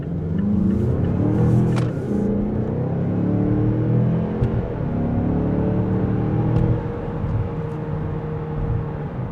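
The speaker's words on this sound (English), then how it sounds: "let's do a quick highway acceleration" A 2025 Mazda CX-5 Turbo Premium accelerating on a highway, heard from inside as a loud, sustained engine drone rising in pitch through the gears over road rumble, with no talking.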